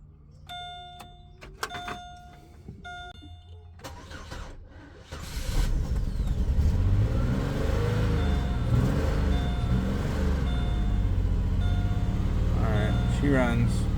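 A 2005 Chevy Malibu with a 3.5 V6 engine, after a no-crank fault, first gives a few chimes and clicks, then cranks, starts and settles into a steady, loud idle that continues to the end.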